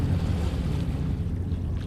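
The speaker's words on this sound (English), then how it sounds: "Across the chasm, the wavelets washed the base of the Cyclopean monolith" Low, continuous wash of water lapping against the base of a huge stone monolith in a chasm, a steady rumbling surge with no distinct breaks, in the horror game Dagon.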